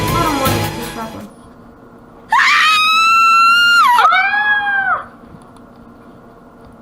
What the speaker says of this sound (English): right up to the moment I screamed